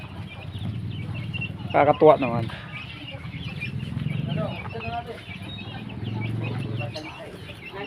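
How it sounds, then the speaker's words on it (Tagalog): Chickens and a rooster cluck and call at a farm with rabbits and fighting cocks, near and moderately loud, with people talking over the clucking throughout. "ibon, manok."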